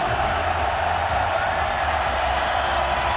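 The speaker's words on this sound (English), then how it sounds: "The crowd gets into it" Football stadium crowd noise during a false start at a college game between Boise State and New Mexico, a dense, steady roar of many voices with no clear peaks.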